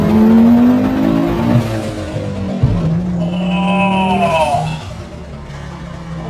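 A 510 bhp five-cylinder turbocharged Audi S2 Cabriolet accelerates hard, its engine revving loudly and rising through gears with a strong up-close roar that eases slightly near the end.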